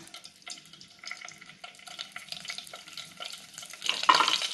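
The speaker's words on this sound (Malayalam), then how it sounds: "അതിൽ ജീരകം ഇട്ട് പൊട്ടിക്കണം." Cumin seeds crackle and spit in hot oil, with scattered small pops building into a louder burst of sizzling near the end.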